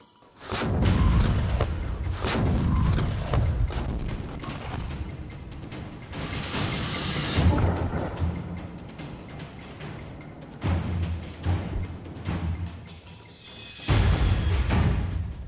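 A Soviet MT-12 Rapier 100mm anti-tank gun firing outdoors, heavy booming blasts with rumbling reverberation, several loud thumps spread across the clip amid wind and ambient noise.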